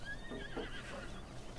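A bokoblin's horse in The Legend of Zelda: Breath of the Wild gives a short, high whinny amid busy game battle noise, moderately close.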